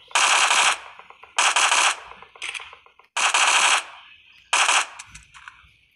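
Rifle gunfire in the mobile game PUBG Mobile comes in four rapid automatic bursts, each under a second long, with a short lone burst between them and brief pauses between, loud and close with no talking.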